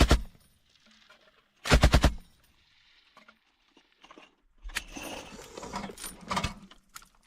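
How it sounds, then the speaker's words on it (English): Bursts of gunfire in war footage from fighting in Russia's Kursk and Belgorod regions: a sharp rapid volley near the two-second mark, then a longer ragged stretch of shots and rattling later, with quiet gaps between. "Popping off some shots."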